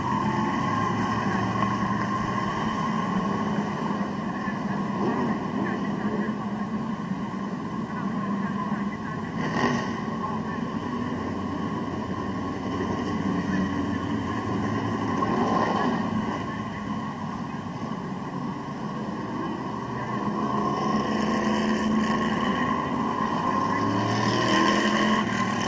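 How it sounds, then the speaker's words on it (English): Crate engine race cars racing at Midvale Speedway, a continuous droning roar of engines circling the track with rises and falls as cars pass, steady and moderately distant throughout. "Bryce Allensworth doing a great job up front in that crate engine number 21 machine."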